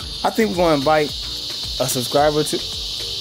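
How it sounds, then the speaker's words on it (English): A steady, high-pitched cicada buzz drones continuously in the background while a person talks over it. "Cicada, I'm making all that noise in the back."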